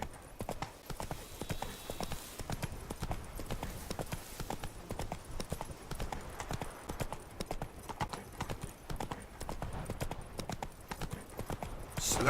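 The Witcher 3 horse Roach trots with steady, rhythmic clip-clop hoofbeats throughout, fairly close and alone, with no voices.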